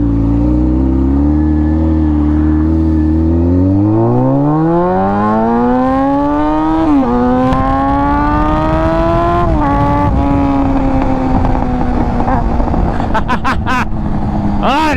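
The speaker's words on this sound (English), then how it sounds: "I got a new exhaust on the bike." A Honda F4i sport motorcycle fitted with a Radiant Cycles Shorty GP exhaust revs up loudly, its engine note climbing steadily over several seconds and holding high with brief dips, close to the listener with no talking.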